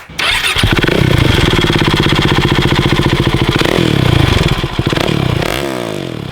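Husqvarna Vitpilen 701 single-cylinder motorcycle fitted with an aftermarket Leovince exhaust, starting up and idling close by with a loud, rapid thumping pulse and a brief rev near the end, heard alone.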